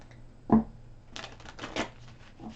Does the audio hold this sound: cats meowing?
no